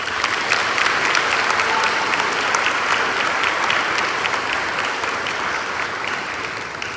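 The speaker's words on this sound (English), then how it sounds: "Give your parents a round of applause." A graduation ceremony crowd at Monterey High applauds the graduates' parents and families, with dense, steady clapping from many hands that holds strong throughout and eases only slightly toward the end.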